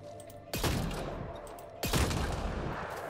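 Two loud gunfire blasts from Mass Effect Andromeda fired at a spot where mines lie, each a sharp, heavy crack trailing into a rumbling decay, with a pause of just over a second between them.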